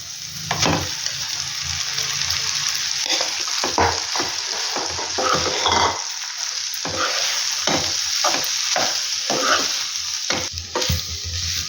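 Cooked rice is stirred into a sizzling chitranna tempering, a spoon scraping the pan in repeated bursts over a steady background fry, close and fairly loud.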